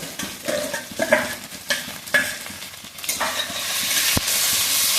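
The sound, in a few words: shrimp frying in a pan with onion and chili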